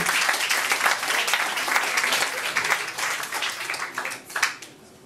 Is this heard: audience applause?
yes